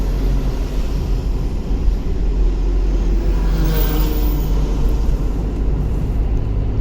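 A steady engine drone and road rumble from inside a car driving along a snowy road, continuous and fairly loud with no pauses.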